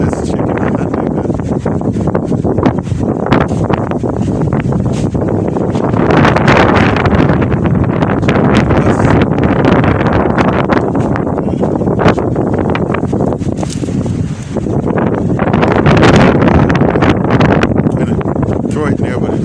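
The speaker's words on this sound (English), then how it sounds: "It is super windy." Strong outdoor wind buffets a handheld phone microphone in a steady roar of broadband rumble, with gustier surges throughout and no one speaking.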